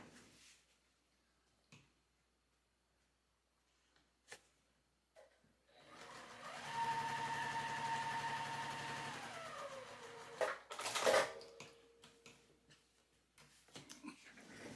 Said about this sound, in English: So let me get over here and sew this together.